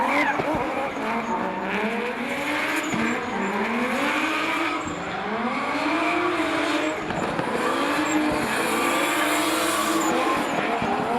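Drift car sliding sideways through the teardrop at Wellington Speedway during pro-class qualifying, its engine roaring and revving in sustained rising and falling sweeps, with tire squeal and skidding throughout, loud and continuous.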